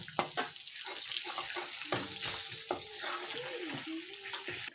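Roasted ground coconut is stirred into hot oil in a pan while cooking an egg curry, giving a steady close sizzle broken by the scrape and clatter of the stirring spoon.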